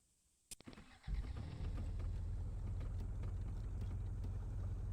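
A car in a video game starts with a couple of sharp clicks and a brief crank, then its engine settles into a steady, loud low rumble that holds to the end.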